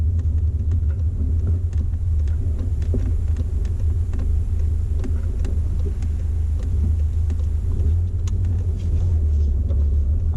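Car pulling away in first gear during a driving lesson, heard from inside as a steady low engine rumble with faint road noise and no sharp revving.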